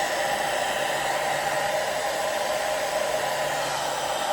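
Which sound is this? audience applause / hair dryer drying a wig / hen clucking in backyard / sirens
hair dryer drying a wig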